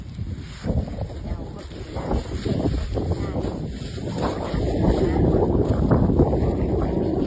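Wind gusting steadily outdoors beside a pond-side path, a broad roaring rush that swells and grows louder toward the end, buffeting the microphone with continuous low rumble.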